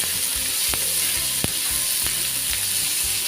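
Onion sautéing in a pan for a mixed vegetable dish, a steady bright sizzle throughout with a few sharp scraping stirs standing out, close and alone without talk.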